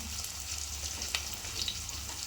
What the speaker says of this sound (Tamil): இந்த தக்காளி நல்லா சுருளை வேகணும் வெங்காயமும் நல்லெண்ணெய் வதங்கணும் கொஞ்ச நேரம் வதங்கட்டும்